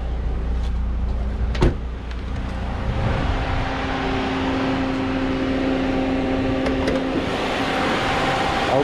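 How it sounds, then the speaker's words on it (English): A GM Ecotec engine idles steadily with the hood open, giving a continuous mechanical hum and whir at a close, even level, with one brief knock partway through. "let me hear this motor real quick"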